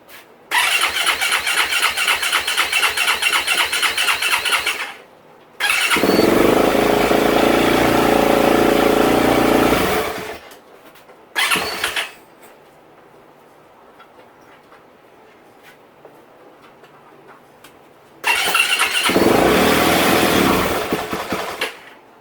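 Freshly rebuilt Yamaha YZ450F motorcycle engine cranking on the electric starter in loud, close bursts of several seconds each with quiet gaps, the motor catching and running briefly near the end.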